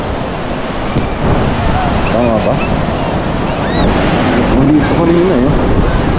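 Sea surf rolling onto a shore at low tide, a steady broad wash of breaking water throughout, close and loud, with wind buffeting the microphone and people talking and calling over it.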